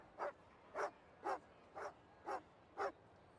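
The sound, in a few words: dog woofing in the video game Genshin Impact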